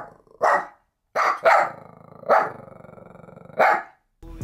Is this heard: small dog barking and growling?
yes